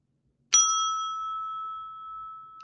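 A single bright bell ding struck once, with a clean ringing tone that sustains and slowly fades over a couple of seconds against silence.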